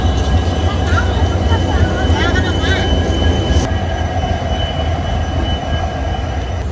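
Vasco Da Gama Express train running, heard from on board as a loud, steady rumble of wheels on rails with some faint squealing, and a voice speaking over the noise.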